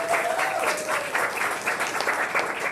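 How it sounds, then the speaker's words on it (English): An audience at a Utah House District 23 Democratic primary debate claps steadily for the two candidates, dense continuous applause filling the room at moderate volume. "You can clap for that too"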